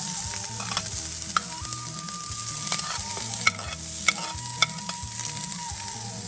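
Chopped onion fries in hot oil in a pan, a steady, close sizzle broken by intermittent scraping clicks of a utensil stirring it, with no voices.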